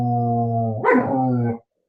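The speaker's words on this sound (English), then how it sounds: "That's my dog." A dog gives a sharp bark mid-way through a sustained whining, harmonic whimper, close and loud, ending abruptly.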